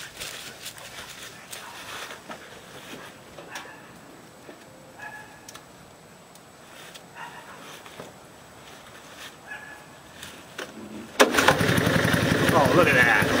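An old engine on a big green machine cranks and fires on the first try after several seconds of quiet ticking and rustling, then runs loudly and steadily close by.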